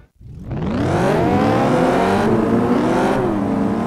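Race car in Test Drive Eve of Destruction, engine starting up from silence and revving hard, a loud steady roar with rising and falling pitch as it accelerates through gears.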